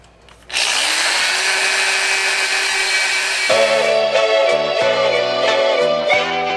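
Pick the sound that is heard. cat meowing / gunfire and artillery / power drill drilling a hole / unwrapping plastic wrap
power drill drilling a hole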